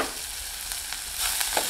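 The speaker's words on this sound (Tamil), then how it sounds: "இப்போ வெங்காய பச்சை மிளகாய் கருவேப்பிலை எல்லாம் நல்லா வதங்கிருச்சு" Onion, green chilli and curry leaves sauté in a pan with a steady, close sizzle, joined by a few soft stirring scrapes and no voices.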